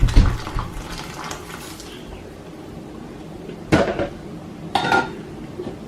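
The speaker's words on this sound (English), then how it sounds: "And I'll add more water." Water splashes into a cooking pot, a brief washy pour near the start, then clattering knocks of the pot and lid in the kitchen.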